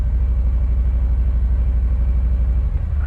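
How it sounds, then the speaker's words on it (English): Cars idle and creep along at the Sturgis rally, a steady, close, low engine rumble with an even pulsing throb and no voices. "People arriving by car."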